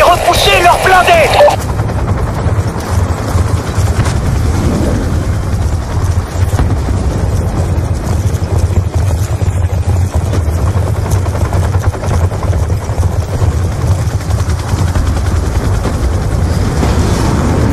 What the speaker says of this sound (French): Des hélicos lâchent des unités directement devant le camp.